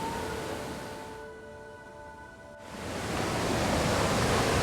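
Iguazu Falls, the largest waterfall in the world, roars as a broad steady wash of noise that dips briefly, then swells back louder and fuller, with no voices over it.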